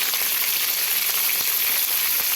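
Potatoes and chopped tomatoes fry in a pan, giving a dense, even, close sizzle with faint crackles and no pauses, and no voices.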